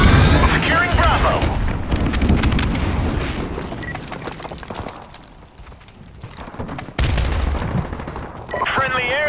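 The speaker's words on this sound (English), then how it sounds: "Friendly airstrike on the way." Heavy booms and rapid bursts of gunfire from an airstrike in a Call of Duty Modern Warfare Remastered multiplayer match on the Crash map, loud and dense, with a brief lull midway before the blasts and shooting resume.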